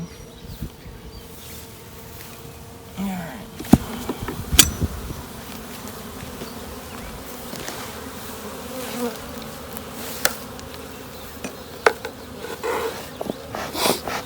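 Honey bees buzzing around an open hive whose frames have been pried apart: a dense, continuous close drone with a few sharper knocks and bumps scattered through it.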